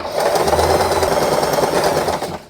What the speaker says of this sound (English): And we can continue sewing.